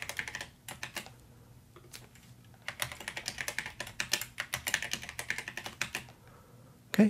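A password typed on a computer keyboard during a software setup, quick bursts of close, light key clicks with short pauses between runs, then a firmer keystroke at the end, alone with no voices.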